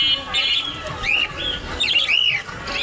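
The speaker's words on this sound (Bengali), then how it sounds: "এখানে প্রতি শনিবারে পাখির হাট বসে।" Many caged birds, including doves, chirp and squawk in overlapping bursts at a busy Saturday bird market, loud and close, with crowd murmur underneath.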